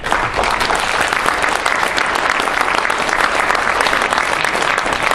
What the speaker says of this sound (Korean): 큰 박수를 좀 보내주시면 감사할 것 같습니다.